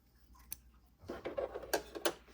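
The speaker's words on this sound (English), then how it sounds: "And we'll cut this one." Scissors cutting fabric for a small notebook cover, a single snip followed by a run of several close crunching cuts, fairly quiet and without speech.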